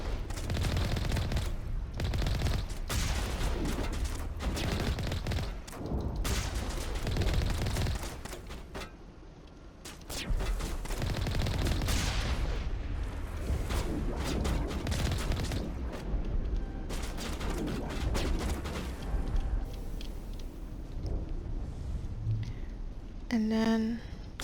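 Gunfire from the Mako vehicle shooting creepers in the video game Mass Effect 1, on the planet Feros. Dense, sustained bursts and booms continue with only brief lulls, loud and layered throughout.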